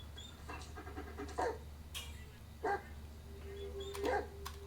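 A dog pants in short rhythmic bursts in the Blair Witch video game, with a few faint whimpers over a steady low hum and quiet ambient game noise.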